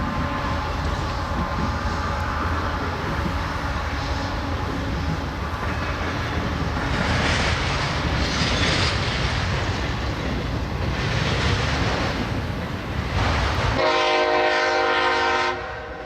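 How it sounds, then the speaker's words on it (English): Norfolk Southern freight train rumbling past at Fostoria, Ohio, a long steady roar of rolling cars with faint rail clatter, then a loud horn blast sounds clearly near the end. "The train that passes by is once again one of those relatively new trains."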